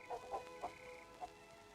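A rooster gives a handful of soft, short clucks in an uneven rhythm, faint and somewhat distant, with no talking over them.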